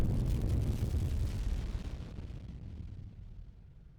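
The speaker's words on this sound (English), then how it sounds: "let's create an explosion or destruction sound using only Waves plugins" A synthetic explosion built from layered Waves plugin processing: a loud, deep boom with a rumbling, noisy body that slowly decays into a fading low tail over about four seconds, with no voices.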